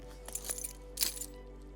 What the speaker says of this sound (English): The car keys, left there by the disappearer specialist, fall from the sun visor.